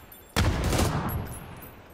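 One sharp, loud burst of PUBG gunfire, close by and abrupt, followed by a long fading ring and echo with no talk.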